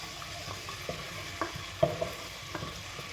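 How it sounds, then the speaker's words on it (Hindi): Garlic paste frying in hot oil with a soft, steady sizzle, broken by light clicks and scrapes of stirring. "ऑयल मेरा गरम हो चुका है। अब मैं सबसे पहले इसमें शामिल करूंगी 1 टेबलस्पून जो है ना लहसुन का पेस्ट।"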